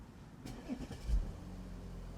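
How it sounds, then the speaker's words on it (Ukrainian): An Audi A7 C7 with a 3.0-litre engine cranks and catches, a short starter whir followed by a low surge as it fires, then settles into a smooth, quiet idle. "І давайте заведемо, наскільки гарно і приємно працює цей автомобіль."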